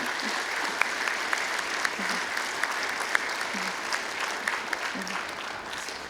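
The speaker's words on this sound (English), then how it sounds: "I would just ask one more round of applause for Jerry." An audience at a college leadership event applauds continuously for several seconds, a dense steady wash of clapping with occasional sharper individual claps and murmured voices underneath.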